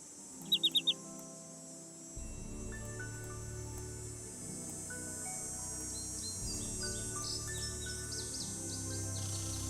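Birds calling in a lakeside forest in Nancy Drew: Ghost Dogs of Moon Lake, a quick burst of four sharp chirps followed by layered whistling songs over a steady insect-like ambient hum.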